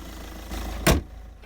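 A Volvo S40/V40 bonnet is shut in one short, solid thump that stands out against a low idling-car hum, followed by a brief settling tail.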